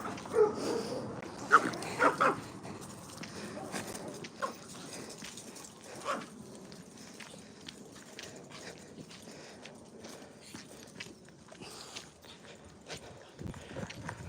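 Dogs on a walk give scattered barks and whimpers amid shuffling footsteps, mid-distance and moderately quiet, with a voice occasionally audible underneath.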